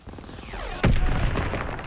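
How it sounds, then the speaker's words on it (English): Battle gunfire from the Call of Duty WWII video game: a falling whine is followed by one sudden, loud, close blast with a rumbling tail. "Gunfire! We must be near our guys."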